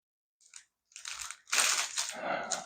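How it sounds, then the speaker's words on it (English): Scissors cutting through a thin plastic bag for a homemade kite, heard as bursts of close crinkling and rustling plastic, starting faint and growing louder and denser toward the end, with no voices. "Basically, you cut it out to the shape required."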